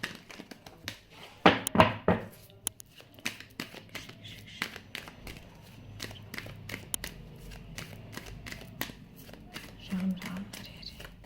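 Tarot cards drawn from three decks, with scattered papery slaps and shuffling taps near the start, then sparse soft handling sounds and occasional thuds. Intermittent quiet speech runs under the handling.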